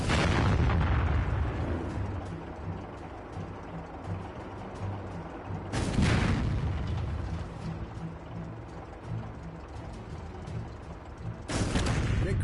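Anti-tank gun firing in the video game Final Assault: three heavy booming shots spaced several seconds apart, each a sharp loud blast decaying into a rumbling mechanical tail.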